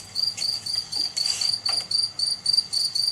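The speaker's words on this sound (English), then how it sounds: "That's all I could hear was one cricket." One cricket chirps loudly and close, its shrill pulses repeating in an even, steady rhythm against an otherwise quiet night.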